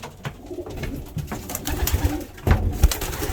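Pigeons in a breeding loft coo and flutter close by, with a steady overlapping murmur of calls and a few louder bursts toward the end.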